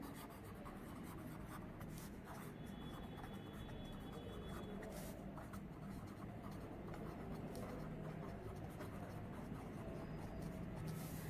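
Pen or marker strokes while equations are written by hand, giving faint, continuous scratchy rubbing with short pauses, quiet and close over a steady background hum.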